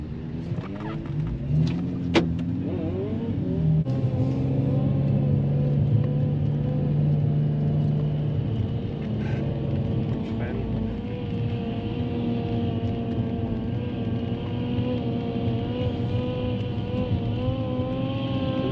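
Car engine droning steadily while overtaking, a close continuous rumble with a couple of sharp knocks early on, then a sustained hum as the engine pulls.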